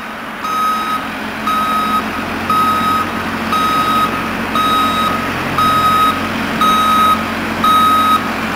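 A truck backing up while moving a trailer, its reversing alarm beeping steadily about once per second over a low idling engine, loud and near.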